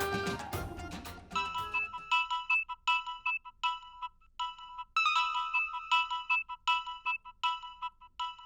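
A phone ringtone plays in repeated bright melodic bursts, fairly loud and clear, following a short jumble of music at the start.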